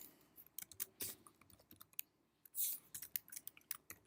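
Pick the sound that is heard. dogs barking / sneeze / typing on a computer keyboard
typing on a computer keyboard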